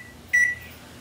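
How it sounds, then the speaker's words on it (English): A kitchen microwave oven heating a tortilla gives a single short electronic beep, clear and close, over faint background hum. "I think I'm gonna put it in the microwave for a second"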